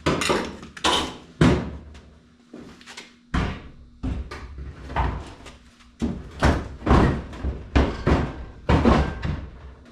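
Suicide door on a budget 1951 Ford rat rod being refitted, a series of loud metallic clunks, knocks and thuds from handling and closing the heavy steel door, close by with short pauses between hits.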